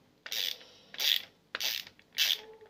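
Four short ratcheting bursts, evenly spaced, as a nut is loosened on a Delonghi ESAM04 110 S coffee machine, close and crisp with no talking.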